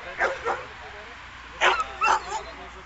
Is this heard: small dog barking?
yes